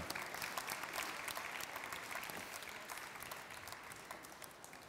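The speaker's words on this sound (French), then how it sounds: "Et ça s'applaudit, hein, normalement." An audience at a live cooking show in Paris claps steadily for several seconds, a dense patter of applause that holds at even loudness throughout with no voices.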